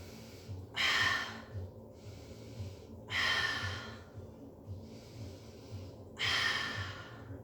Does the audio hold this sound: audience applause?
no